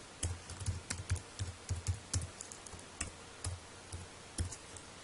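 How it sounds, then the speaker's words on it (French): A computer keyboard being typed on while a password is entered: a quiet, uneven run of light key clicks with short pauses between bursts, and no talking. "On va taper le mot de passe."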